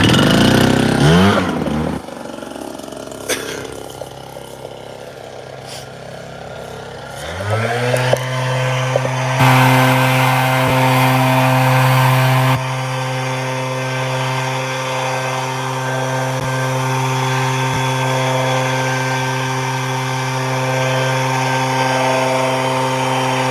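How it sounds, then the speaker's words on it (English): An Echo PB-9010 backpack leaf blower starts with a few sputters, then runs loud and steady at high throttle, with brief surges, close by. "You want to blow half of them to the ditch, and then blow the other half to the ditch with the other blower."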